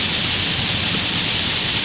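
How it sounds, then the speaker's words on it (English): Heavy rain pours down steadily in a dense, unbroken hiss, close and even throughout, with no voices. "it is just pouring down rain"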